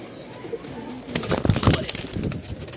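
Pigeons cooing, a male and female pair of Bondinette pigeons, their soft low coos rising and bunching together near the middle, close by, with faint rustling throughout.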